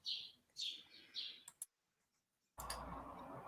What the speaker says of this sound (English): All I can hear is birds.